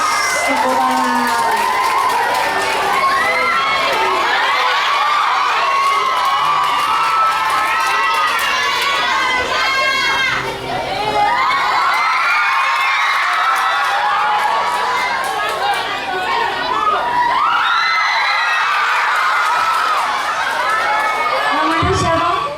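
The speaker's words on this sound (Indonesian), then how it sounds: "Tepuk tangan." A large audience at a digital wayang golek puppet show cheers, shouts and claps loudly and continuously, with children's voices prominent in the dense crowd noise.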